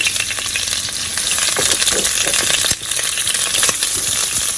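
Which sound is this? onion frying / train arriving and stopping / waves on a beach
onion frying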